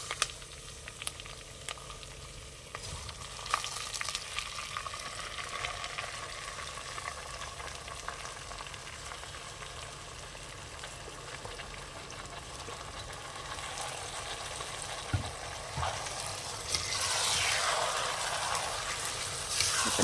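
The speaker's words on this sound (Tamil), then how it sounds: "இப்போ நல்லா இந்த எண்ணெயிலே ஒரு 5 நிமிஷம் நல்லா வதங்கட்டுங்க" Rice and lentils for ven pongal, soaked and added to hot oil in a pan, sauté with a faint, steady sizzle and occasional soft stirring scrapes throughout, without any speech.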